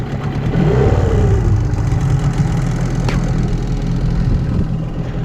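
A boat motor hums steadily while heading upstream on the Horyn River in autumn, a continuous close engine drone with a brief rise in pitch early on and no speech.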